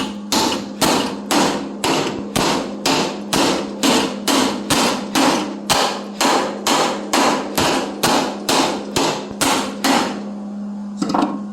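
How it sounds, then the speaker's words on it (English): Hot, freshly welded steel plate on a commercial mower deck is struck with a hammer in a steady rhythm of about twenty sharp metallic blows, close and loud, before a short pause near the end. "I'm going to show you how I'm going to hammer this."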